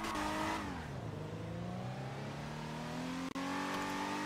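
An upgraded car driven in GTA, its engine revving loudly and steadily, with the pitch dropping as it shifts and then climbing again under acceleration, close and continuous.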